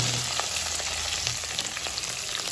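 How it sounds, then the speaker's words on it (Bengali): Potatoes fry in hot oil in a kitchen with a dense, continuous close sizzle and no talk. "তো এখন আমরা আলু ফ্রাই করব।"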